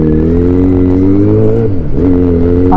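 Yamaha XJ6 motorcycle accelerating in city traffic, a loud, close engine note climbing steadily in pitch, briefly dropping as it shifts gear, then rising again with no talk.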